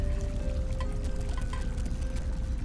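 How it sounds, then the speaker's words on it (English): Water flows steadily through building pipes in the adventure game The Little Acre, a continuous pouring wash with faint trickles and small drips over a low background hum. "With the obstruction removed, I could hear water flow through the pipes to another part of the building."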